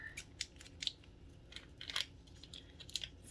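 Quiet, crisp snips of scissors cutting, a series of short clicks spaced irregularly, close up against a soft background hiss.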